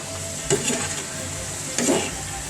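Chicken adobo with egg stirred in a frying pan: two brief scraping stirs stand out over a faint, steady sizzle.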